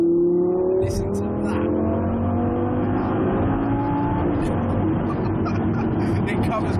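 Lamborghini LP570-4 Performante engine accelerating, a loud sustained roar with rising revs climbing in pitch, heard from inside the car with a voice talking over it.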